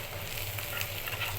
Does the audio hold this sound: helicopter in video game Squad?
no